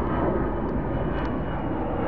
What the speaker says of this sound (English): we got an airplane flying overhead here.